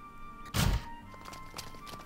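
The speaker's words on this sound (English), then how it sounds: "the door opened with a bang" A door bangs open in a visual novel game scene, a single sharp thunk near the start against quiet background, followed by faint soft knocks and rustles.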